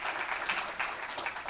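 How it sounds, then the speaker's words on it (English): An audience applauds at a chamber of commerce event, a steady spread of clapping at moderate level that carries through the whole brief stretch without a break. "We can all give them a round of applause."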